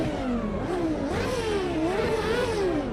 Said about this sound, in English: I have missed this Renault V10 engine sound